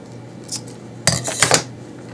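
Scissors cutting a length of green ribbon for a craft pumpkin, a faint snip followed by a quick cluster of sharp metallic clicks and snips, close and clear in a quiet room.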